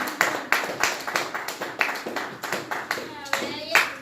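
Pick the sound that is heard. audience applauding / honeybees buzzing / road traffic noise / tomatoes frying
audience applauding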